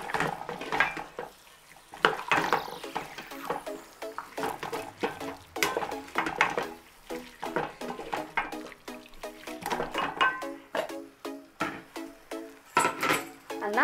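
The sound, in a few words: stirring carrots in a cooking pot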